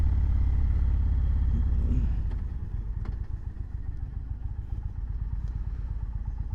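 A 2020 Indian Roadmaster Darkhorse motorcycle rumbles loud and close with a deep engine note under way, easing to a steadier, slightly lighter throb after a couple of seconds, with no voices.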